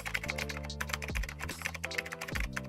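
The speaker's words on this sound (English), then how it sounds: "Type this prompt." Rapid clicking keystrokes on a computer keyboard as a prompt is typed, steady irregular taps alone with a low music bed underneath and no talking.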